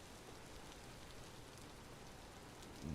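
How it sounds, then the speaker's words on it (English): Steady rain in the survival video game Vintage Story, a soft, even hiss of falling drops continuing throughout at low volume with no voices. "We're starting in rain."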